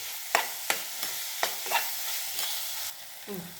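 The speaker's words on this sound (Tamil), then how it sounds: "வெங்காயம் நல்லா வதங்கிருச்சு" Onions sautéing in a pan with a pinch of salt for a channa masala, a low steady sizzle broken by several sharp spoon scrapes and stirs, close and clear with no talking.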